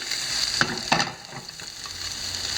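Bluefish fillets fry in a non-stick pan with a steady, fairly quiet hiss, marked by a couple of soft scraping bumps early on, heard close up with no voices.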